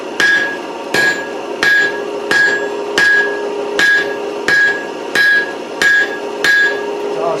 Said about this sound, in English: I'm going to strike it right down to make that dish in the